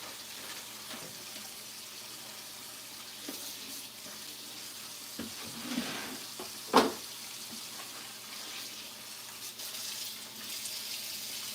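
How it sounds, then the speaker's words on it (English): Tap water runs steadily over a catfish fillet being rinsed in a kitchen sink, a constant faint hiss with a few louder splashes partway through. "Let me rinse off this fish."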